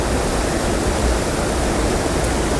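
A waterfall in a trout canyon stream roars as a steady, dense wash of rushing water, loud and close, filling the whole moment without voices.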